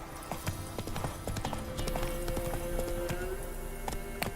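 Roach, a horse in The Witcher 3 video game, clip-clops along at a steady gallop, the hoofbeats close and rhythmic over a continuous game background with a faint tonal drone.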